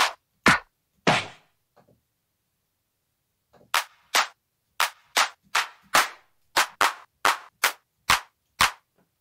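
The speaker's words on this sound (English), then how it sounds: "Now we'll need a clap." An electronic clap drum sample for a tech house beat hits alone in sharp, dry bursts, first sparsely, then in a steady rhythmic run of about a dozen claps.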